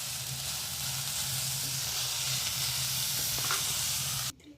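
Carrot pitha mixture with ghee sizzles steadily in a hot pan as it is stirred, a loud continuous frying hiss close by, cutting off sharply near the end.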